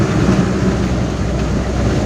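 Barata train running at speed produces a loud, steady rumble and roar up close, constant wheel and engine noise throughout with no voices.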